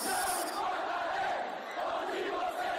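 A stadium crowd at a Goiás football match in the 2023 Goianão roars and chants after a goal, a sustained distant wall of cheering voices with no break.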